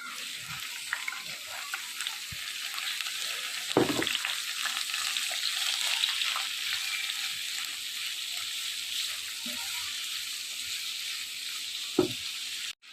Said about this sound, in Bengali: এখন আমি একে একে সবজিগুলো সব দিয়ে দিব।